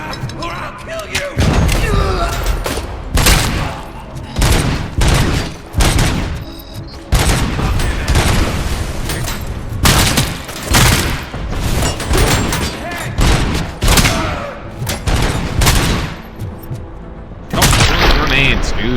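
Heavy combat from a first-person shooter set in a slaughterhouse nuke lab, with dense booming grenade explosions and rapid gunfire that keep going without a break, thudding blasts repeating throughout and only brief lulls.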